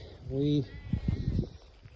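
A sheep in a pen lets out one clear, close bleat, followed by a person talking nearby.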